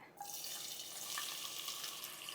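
Three sliced onions drop into hot oil for a pressure-cooker chicken biryani, and a steady bright hiss rises at once and holds fairly loud, with faint scraping under it.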